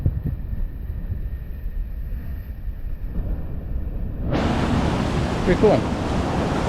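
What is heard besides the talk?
ocean waves hitting rocks as tide comes in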